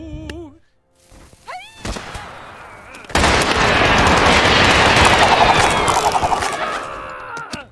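Wild West gunfire in Totally Accurate Battle Simulator: a few scattered shots and thuds give way to a sustained, loud burst of rapid fire and impacts, with game effects and a voice mixed in.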